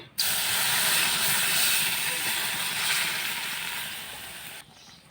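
Water poured onto semolina frying in a pan for a Bengali suji dish, setting off a sudden loud, steady steam hiss that starts abruptly, holds for several seconds, slowly fades a little and then drops off sharply.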